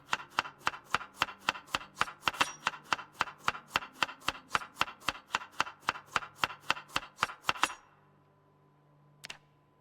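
Rapid, steady chopping in the video game Project Zomboid as food is carved up, around twenty-five sharp knife strikes in even rhythm, followed by a short pause and one final isolated knock.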